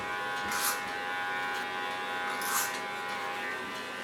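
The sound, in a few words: electric hair clipper cutting hair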